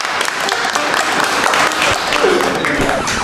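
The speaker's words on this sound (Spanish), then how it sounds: "Un aplauso para la alumna." Classroom applause for a female student, dense steady clapping filling the whole moment, loud and close, with voices mixed in.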